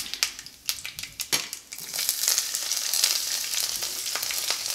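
Chopped pepper and garlic dropped into hot oil in a pan for a Kerala-style green bean thoran, first scattered crackles and then a steady close sizzle with light stirring.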